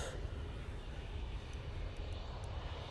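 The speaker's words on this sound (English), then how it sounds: "Got this Ryanair 737." A Ryanair Boeing 737 arriving from Bucharest at Manchester Airport gives off a faint, steady low engine roar, heard alone and from a distance.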